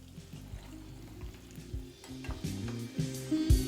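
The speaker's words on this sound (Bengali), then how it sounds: "এবার উল্টে পাল্টে এটাকে একদম লাল লাল করে আপনারা ভেজে নিন।" Semolina and potato snacks frying in hot oil over a medium-to-high flame, turned as they crisp, giving a steady close sizzle broken by stirring scrapes and soft clinks, louder toward the end.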